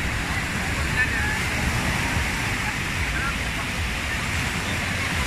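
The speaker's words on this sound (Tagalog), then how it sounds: "Laki ng mga alon." Big ocean waves at Dahican beach in Mati, Davao Oriental, give a steady broadband roar of surf with heavy low rumble. Wind adds to it, and the wash stays loud and continuous throughout.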